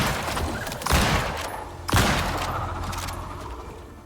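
Komodo creatures in the video game Icarus fire needles in two sharp, loud bursts about a second apart. Each burst trails off into a dense, rumbling wash of game noise.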